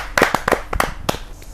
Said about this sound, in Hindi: जोरदार ताली के साथ हम उनका स्वागत